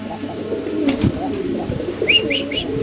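Pigeons at a market, red Lahori among them, give low cooing calls close by, with a few short chirps and a soft flutter amid mild background noise.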